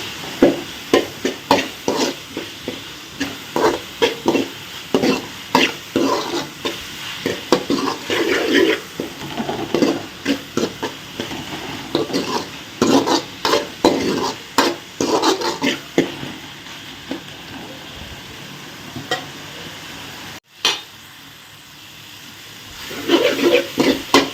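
Curry masala sautéing in a pan for a kuzhambu while a spoon scrapes and stirs it, producing repeated close scraping and clinking strokes in an uneven rhythm throughout, with a short pause near the end.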